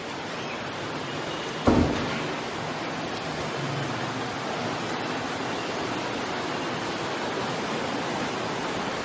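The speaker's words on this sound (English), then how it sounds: "we knew it was about to start pouring pretty bad" Heavy rain pouring down steadily in the Philippines, a dense continuous hiss throughout, broken by one sharp knock or thump early on.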